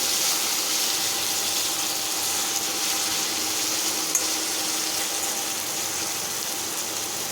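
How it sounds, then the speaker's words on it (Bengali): Chopped potatoes with a little salt and turmeric fry in hot oil, giving a steady, even sizzle that stays alone at a constant level throughout. "আলুটা ভালোভাবে ভাজা হতে থাক"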